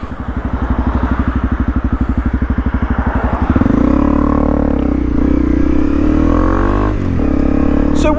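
A Honda CRF 250 Rally motorcycle engine thumps in a fast, steady pulse at close range, then its pitch rises and settles into a smoother, louder drone that dips briefly before picking up again.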